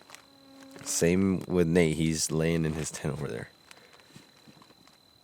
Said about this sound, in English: What we have been doing is we've been swatting mosquitoes.